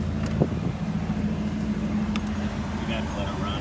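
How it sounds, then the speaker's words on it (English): Ford Focus idling on a cold day, a steady low exhaust rumble with a faint hum under it, and a few light knocks and clicks around the car. "Nice exhaust."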